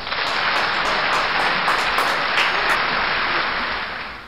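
A room full of club members at a Photo Arts Club meeting breaks into steady, dense applause that holds for several seconds before tapering slightly at the end.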